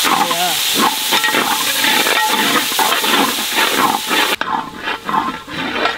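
Tomatoes and onions sizzle loudly in a hot pan while being stirred, a dense continuous frying hiss with repeated scraping strokes, briefly dropping and then resuming near the end.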